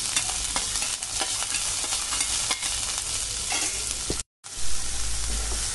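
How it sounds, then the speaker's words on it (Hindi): Onion added to garlic and ajwain in hot mustard oil, frying with a loud continuous sizzle and stirring clatter up close, broken by a brief silence before it resumes. "फिर मैं इसमें डालूंगी आनियन।"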